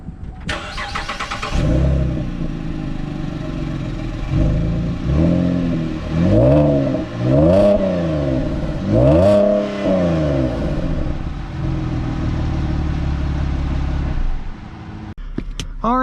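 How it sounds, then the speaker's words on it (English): A 2011 Chevrolet Camaro V6 with an automatic transmission accelerates on the road, its engine note rising loudly and falling through several revving pulls before settling to a steady drone, heard close from inside the car. "Today we're driving a 2011 Chevrolet Camaro."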